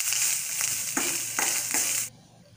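Chana dal, urad dal, cumin, dried chili and grated coconut fry in a pan, a bright hiss broken by a few soft stirring scrapes before the sizzle drops away near the end.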